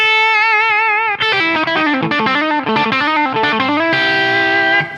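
A solo played on electric guitar through a 1968 Marshall Plexi amplifier, with a sustained held note followed by quick bending, overdriven lead phrases and a final ringing note, loud and up close.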